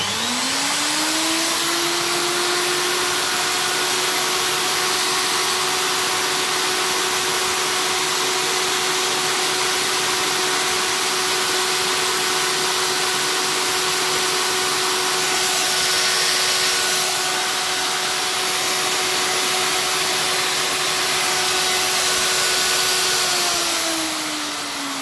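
A machine drawing a load of nearly 1700 watts through a 3000VA Lexos voltage stabilizer runs loud and steady with a droning whine that rises as it spins up, holds for about twenty seconds, then winds down.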